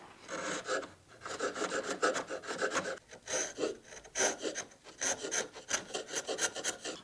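A wood chisel works scrap wood in close, repeated scraping and rasping strokes with short pauses between them, loud and steady with no talking.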